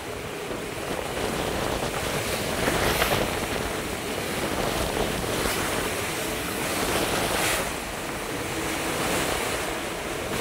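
Rough open sea heard from a fishing boat far offshore, with continuous surging waves and heavy wind buffeting the microphone, a broad steady roar throughout and no voices.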